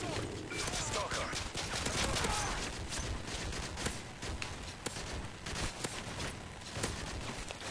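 A sentry gun fires in Call of Duty: Modern Warfare 3 Chaos Mode, with dense, continuous loud bursts of gunfire rattling over game effects while a person talks over the action.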